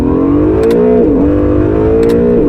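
An Acura NSX sports car engine drones loudly up close while driving, its pitch rising and dipping as the revs shift, with faint clicks above.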